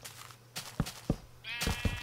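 Sheep bleating in the Minecraft video game, a wavering bleat near the end among several soft thumps and clicks, fairly quiet and with no talking.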